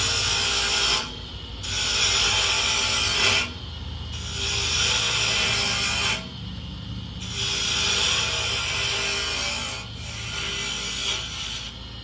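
A gouge cuts into a spinning wooden bottle stopper on a lathe, making loud rasping scrapes in repeated bursts of a second or two with short quiet breaks between them.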